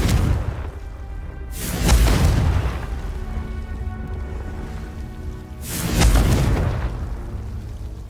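Two heavy booming blasts from a Confringo fire spell in the video game Hogwarts Legacy, spaced a few seconds apart, each a loud broad burst that swells and rolls off over a steady magical ambience.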